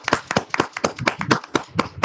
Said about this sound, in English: Please give a big round of applause and welcome him.